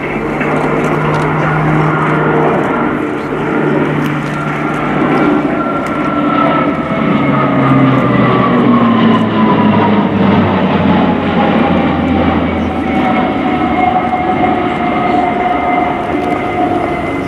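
An Italian Air Force C-27J Spartan flies a display at an airshow, its engine and propeller drone loud and steady throughout, with a tone that slowly falls as the aircraft passes along the display line.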